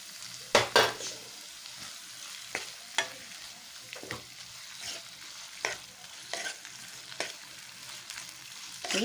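Tomato being stirred and fried in a pan for an egg gravy, with repeated scraping strokes of a spoon over a steady soft sizzle, close and alone without talk.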